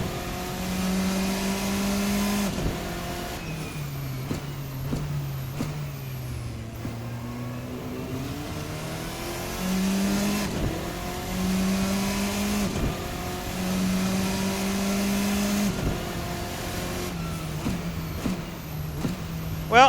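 Formula RSS 4 race car engine in the Race Sim Studio racing simulator revving hard and loud throughout, pitch climbing and dropping through repeated gear changes and throttle lifts.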